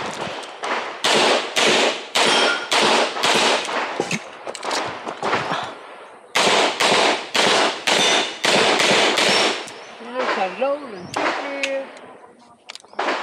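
Pistol shots crack loud and close in two rapid strings of about a dozen rounds each during an IPSC stage at targets and steel plates in Davao, with a short pause between strings and brief talk near the end.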